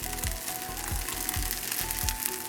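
Chard, onions and carrots fry in a hot pan for five-spice fried rice, giving a dense, constant sizzle up close with faint rhythmic stirring or scraping thumps underneath, and no talking.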